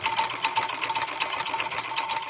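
A 1970s Kenmore 158.13520 sewing machine stitches steadily, a fast, even mechanical whir heard up close and unbroken for the whole stretch, with no voices.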